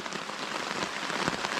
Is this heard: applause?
no